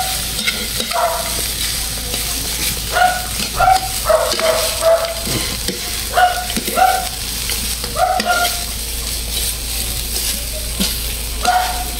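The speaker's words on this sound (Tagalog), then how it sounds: "Ngayon gisa lang natin siya." Previously boiled meat is sautéed in a pan, giving a steady close sizzle with repeated stirring and scraping strokes and a few short squeaky tones mixed in.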